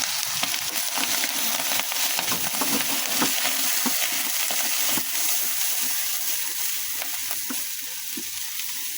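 Spices of turmeric and red chili powder frying and being stirred in a pan for prawn malaikari, a loud continuous sizzle broken by repeated scraping and clattering strokes of the spoon at an uneven rhythm.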